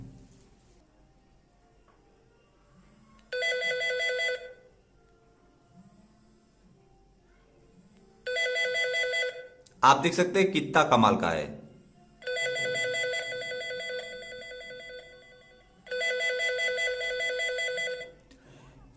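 A 3D ringtone plays from an Android phone during an incoming call, sounding in four bright, repeating bursts separated by gaps, with someone talking over a louder middle section.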